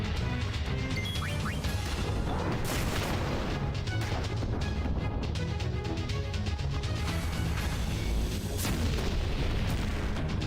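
A howitzer fires in Final Fantasy X-2 HD Remaster, with booming, crashing blasts and bursts over a continuous game rumble that stays loud throughout.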